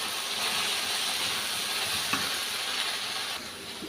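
Cabbage being stir-fried in a pan for homemade noodles, a steady, close hissing sizzle with soft scraping stir sounds and an occasional light clink, continuous throughout.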